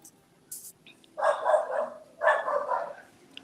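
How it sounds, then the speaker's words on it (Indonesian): A dog barks somewhat in the distance, two hoarse, drawn-out bursts about a second apart against a quiet background, with a few faint clicks in between. "Ada yang menggonggong itu."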